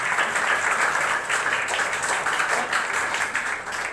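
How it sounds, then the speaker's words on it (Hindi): Sustained audience applause fills a school foundation day award ceremony in a hall in Bhilai, dense steady clapping at moderate volume continuing throughout without pause. "जोरदार तालियों के साथ आप स्वागत करें"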